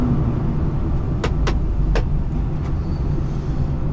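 Road traffic idling around an HGV Class 1 truck cab in a queue near roadworks and traffic lights, a steady low engine rumble with a few faint high clicks and squeaks, no talking.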